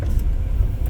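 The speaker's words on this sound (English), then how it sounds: "That loud noise you hear is probably the blower in the car." A car's heater blower runs inside the vehicle, a loud, steady rushing whoosh that fills the cabin for a brief moment.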